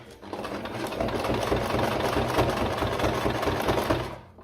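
A sewing machine stitches through thick fabric while a homemade belt bag is sewn, giving a steady, close mechanical whir with a rapid needle rhythm that runs for several seconds.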